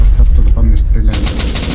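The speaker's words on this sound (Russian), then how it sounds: "Просто оттуда по мне стреляют." Gunfire in the survival video game Rust during a raid, a loud burst of rapid close shots with sharp cracks toward the end, while a player talks over it.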